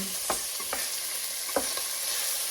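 Chicken breast searing in a pan over medium heat gives a steady, close hiss of frying with a few sharp sputters and spatula scrapes, and no one speaks.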